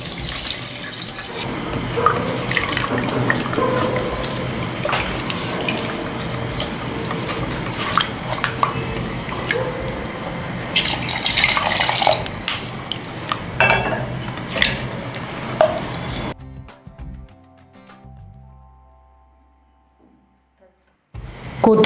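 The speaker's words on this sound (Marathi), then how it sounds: "मी हे पाणी गरम करून घेतलेलं आहे, ते आता आपल्याला त्याच्यामध्ये टाकायचं आहे" Hot water streams steadily into a pot of chicken khichadi for a long, even pour with faint clinks, then fades to near quiet broken by a few light utensil taps.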